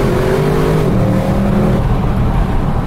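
An Audi RS6 engine pulls hard under acceleration, a loud continuous roar with rising pitch that levels off into a steady drone, heard close with no talking over it.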